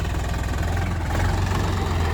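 Swaraj 855 FE tractor engine running steadily, a deep continuous diesel throb with a faint knocking rhythm, close by and fairly loud, holding an even level throughout.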